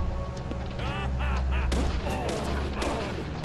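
Gunfire in the video game Deadly Premonition comes as several loud, booming shots in quick succession, blended with game sound effects and heavy low rumble.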